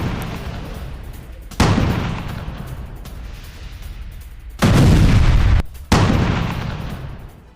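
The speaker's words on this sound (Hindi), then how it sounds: "रूस की आर्टिलरी ने बोला धावा" Russian artillery fire striking Ukrainian army positions: three heavy, loud booms with sharp onsets, each followed by a long rumbling decay, the last two close together, with no voices.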